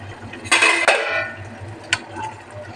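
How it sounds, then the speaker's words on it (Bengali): A lid lifted off a cooking pot of lentil dal with bottle gourd, giving a short metallic scrape and clatter, then a single light clink, close and loud over a quiet room. "ঢাকনাটা খুলে দেখি কেমন হয়েছে।"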